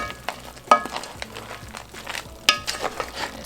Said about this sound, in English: Stir in all that pasta